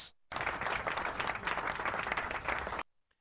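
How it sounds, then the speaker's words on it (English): Applause from a class of students after a quiz-style check of scores, a steady wash of clapping lasting about two and a half seconds, starting and stopping abruptly, with no talking over it. "Give yourselves a big round of applause"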